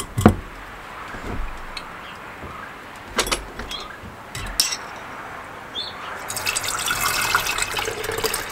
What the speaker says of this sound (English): now we're going to add hot water